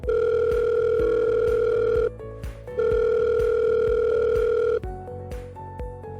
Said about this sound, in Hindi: मैं बस कॉन्टैक्ट नंबर पर क्लिक करता हूँ और ग्राहक को कॉल करता हूँ।